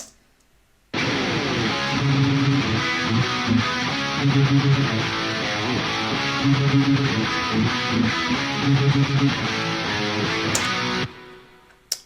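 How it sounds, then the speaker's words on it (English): Main riff played on distorted electric guitars through a Friedman Cali amp and a 90s Les Paul, heavy chunky palm-muted chugs with rhythmic accents, loud and upfront, starting after a second of silence and stopping cleanly near the end. "The guitars themselves for the main riff sound like this."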